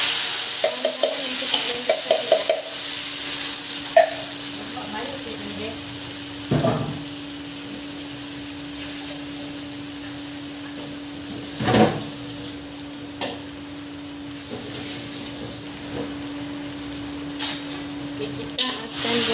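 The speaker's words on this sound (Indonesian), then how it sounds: "saya sudah blender ya, dia punya bahan-bahan tuh, dan saya sudah panaskan minyak. Kita akan gorengkan dia lah guys." Blended rendang spice paste frying in hot oil and being stirred, a steady sizzle with a faint hum, broken by repeated scraping stirs and occasional clatters, close by.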